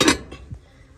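Pink and black frying pans, part of an 11-piece set, clink once as they are handled, a brief metallic clatter that fades quickly.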